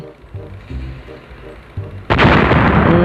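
Gunfire and blasts in the game Gangstar Vegas: soft muffled thumps at first, then a sudden loud, sustained roar of explosions from about two seconds on, filling the rest.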